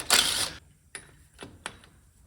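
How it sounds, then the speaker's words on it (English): A specialty tool is popped off a Dana 30 differential during a re-gear, making a sharp metallic clatter followed by three brief clicks and knocks nearby. "So now I'm going to pop this tool off, and then I will recheck, verify what it is."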